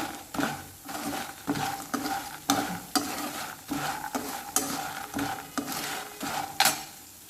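Fried vadiyalu (sun-dried lentil dumplings) being stirred in a pan, with a steady rhythm of scraping spoon strokes and light rattling over a soft sizzle, close and fairly loud, with no talking.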